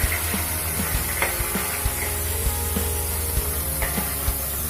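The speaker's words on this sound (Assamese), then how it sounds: "এয়া আমাৰ ধুনীয়া ভাজি আছে মাছ" Fish frying in a pan gives a steady close hiss and sizzle with small crackling pops scattered throughout, heard alone without talk.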